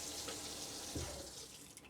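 Water runs steadily from an RV faucet, a continuous hissing gush at moderate volume with a faint clunk midway, no voices over it.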